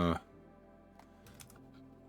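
Computer keyboard keys tapped while working in CAD software, a few faint, scattered clicks in a quiet room after a brief louder sound at the start.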